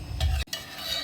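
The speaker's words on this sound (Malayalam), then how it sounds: "ഒരു തിളച്ച് ഉപ്പുമൊക്കെ നോക്കി നമുക്ക് കടുവറുത്ത് എടുക്കാം" Mustard seeds sizzle and crackle in hot oil as a tempering is made for a brinjal theeyal. A steady, fairly loud frying hiss is broken by one brief silent gap, then resumes. No voices.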